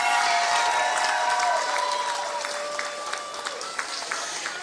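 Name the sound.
graduation audience applauding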